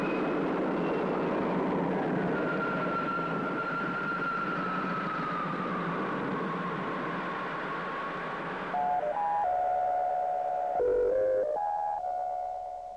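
A spaceship takeoff effect from a 1962 Space Patrol episode: a loud steady roar with a slowly gliding whine, followed by shifting electronic tones.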